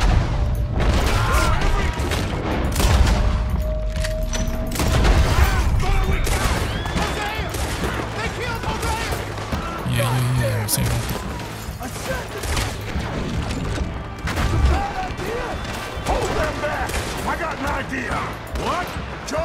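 Gunfire crackles through a chaotic shootout in Red Dead Redemption 2, with dense volleys, booms and scattered single shots layered continuously under frequent shouting voices.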